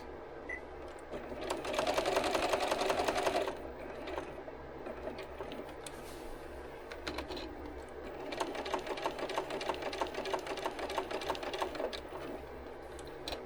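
A sewing machine stitches a jacket slowly in two separate runs, a short loud burst followed by a longer, steadier stretch of close mechanical clatter, with quieter handling in between.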